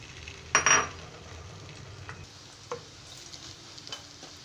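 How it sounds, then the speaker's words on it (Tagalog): Eggs frying in a pan, with a soft, steady sizzle throughout and a brief louder clatter of a utensil near the start, followed by a few faint scrapes and taps, close by. "Prito na natin ang itlog."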